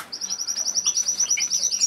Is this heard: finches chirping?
yes